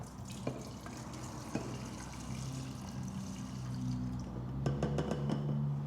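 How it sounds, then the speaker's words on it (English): Gasoline is poured from a jar into an Echo gas mower's fuel tank, a steady close trickle with a few drips, the flow thickening into a fuller gurgle toward the end. "Now you can pour your gas back in from your jar"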